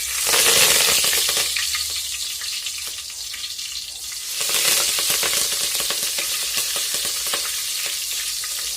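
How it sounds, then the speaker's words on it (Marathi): Curry leaves hit hot oil for a Maharashtrian katachi amti, setting off a loud, close sizzle that flares sharply at first, then settles into a steady crackling fry. "आता आपलं तेल तापलेलं आहे आता आपण त्याच्यामध्ये कढीपत्ता घालूया"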